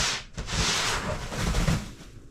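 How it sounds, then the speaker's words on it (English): A roof scraper pushes and packs snow off a boat in winter, giving a close, rough scraping rush that swells and fades over a couple of seconds. "He's using a roof scraper. It's working. It's just hard because it's packing the snow as he's doing it."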